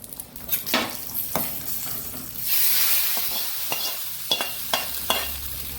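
Oil tempering with asafoetida sizzles as it is poured into Mattu Gulla (Udupi green brinjal) sambar, with a steady frying hiss rising midway and several sharp stirring clicks of a utensil against the pot nearby.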